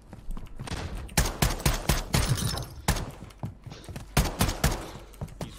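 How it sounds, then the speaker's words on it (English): Rapid bursts of gunfire in the video game Warzone 2.0, with sharp repeated shots close by in uneven volleys and clusters across the whole stretch, loud and without talk. "What are you shooting at, buddy? Oh, you're shooting at the other team"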